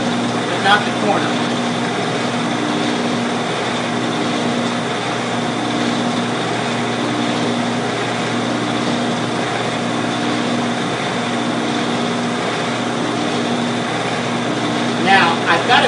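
Wood for a finger plane is sanded on a powered sander. The motor gives a steady, even drone that runs unbroken from start to finish.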